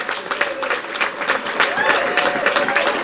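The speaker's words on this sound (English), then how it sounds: "Give him a nice big round of applause." An audience gives a round of applause for Jimmy Rozica, a friend singled out from the crowd at a Make-A-Wish event, with brisk crowd clapping mixed with cheering voices and a faint tonal whistle running through it.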